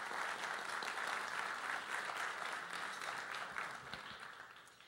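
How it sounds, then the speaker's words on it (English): Audience applause at a melanoma foundation golf outing keynote speech, a dense, continuous wash of clapping that holds steady and then gently tapers toward the end, with no talking over it. "yeah, that deserves a round of applause."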